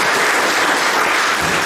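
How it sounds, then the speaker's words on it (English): A church congregation gives a loud, full round of applause, a dense, even wash of clapping that carries on without a break and with no talk over it. "You've already given them a round of applause, but can we give them another one?"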